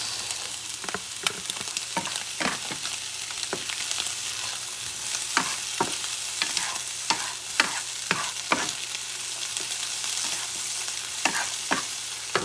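Oil sizzles steadily as turkey breast fries with green onions, with frequent sharp scrapes and clacks from a utensil stirring the pan close up.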